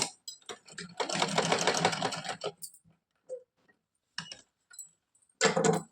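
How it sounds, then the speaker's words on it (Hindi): Sewing machine stitching a seam on a salwar with a half-inch margin, running in a steady whirring burst of about a second and a half, then short stops and brief restarts, close and clear with no talk. "इसको यहाँ पे आधा इंच का मार्जिन देके हम सिलाई कर ले रहे हैं यहाँ पर।"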